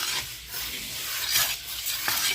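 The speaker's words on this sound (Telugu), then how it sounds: "ఎర్రగా వేగేదాకా మినపప్పును బాగా ఫ్రై చేసుకున్న తర్వాత" Black gram (urad dal) is frying and being stirred in a pan at close range, with a continuous bright sizzle and occasional scraping of the spoon against the metal, with no talk.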